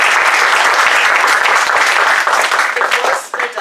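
Loud, dense applause from an audience honoring a speaker, many hands clapping close and steady before tapering off near the end, with some voices beneath.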